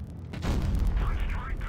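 A tank cannon shot in the WoT Blitz video game booms loudly and close, a sharp blast with a heavy rumbling tail that rings on for over a second.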